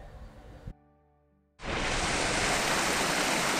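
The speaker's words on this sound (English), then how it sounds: "but then I found a waterfall" A Welsh waterfall roars loud and steady, its dense broadband rush cutting in suddenly after a short lull and then holding close and unbroken to the end.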